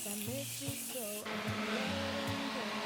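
A sharp hissing spray bursts in partway through, then continues as a steady hiss under a droning tonal background.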